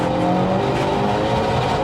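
A 387 hp turbocharged front-wheel-drive Vauxhall Corsa accelerates at about half throttle in third gear, its engine note loud and close and rising steadily in a short burst.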